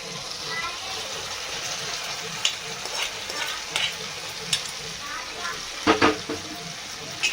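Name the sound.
boiled chicken added to fried tomatoes and stirred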